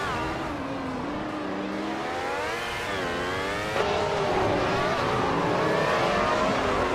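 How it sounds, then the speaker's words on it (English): Several 1995 Formula One race car engines wail through the tight Marina Bay street circuit in a racing video game, layered high revving pitches rising and shifting steadily and loudly, with a jump in intensity partway through. "The F1 1995 cars are handling the tight Marina Bay streets surprisingly well"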